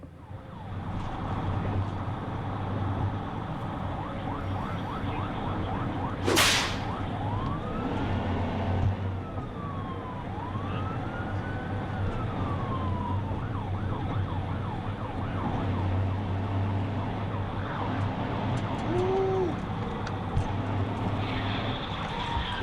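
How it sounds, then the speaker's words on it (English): Police car siren wailing during a highway pursuit of a Honda, a faint, distant rising and falling tone over steady road and engine rumble. "prompting him to activate his emergency lights and sirens to conduct a traffic stop"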